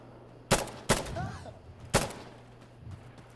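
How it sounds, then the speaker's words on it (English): Video game gunfire, three sharp loud shots in under two seconds against a quiet background, with a faint voice in between. "I'm getting shot too."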